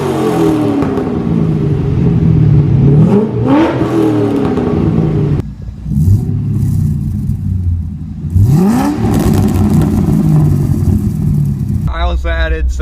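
An LS-swapped Porsche with headers, a custom 3-inch Y pipe and a small MagnaFlow muffler revs loudly and repeatedly, the engine climbing and falling in several sharp pulls, while people talk over it.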